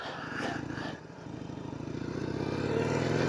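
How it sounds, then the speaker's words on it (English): A beginner motorcycle engine idles and then slowly revs up, a continuous low rumble with rapid pulsing, close by and with no talking. "I still want to hear the motor in my video."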